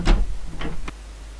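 A creaky door opening in The Dark Mod, a stealth video game: a short wooden creak and groan, then a second creak and a brief tick, heard close and alone.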